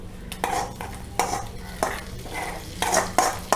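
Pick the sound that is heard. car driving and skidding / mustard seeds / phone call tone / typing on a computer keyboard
mustard seeds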